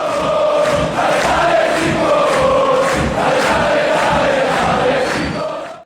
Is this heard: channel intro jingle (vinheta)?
yes